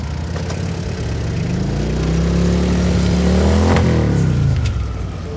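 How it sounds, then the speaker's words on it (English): A motorcycle engine revs up steadily, its pitch climbing and then dropping off, loud and close with no talking. "I get on my motorcycle and lead Dreger out from this area."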